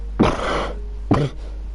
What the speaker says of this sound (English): Still a bad cough.